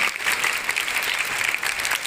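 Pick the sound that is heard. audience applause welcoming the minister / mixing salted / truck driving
audience applause welcoming the minister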